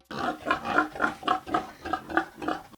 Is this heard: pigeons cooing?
no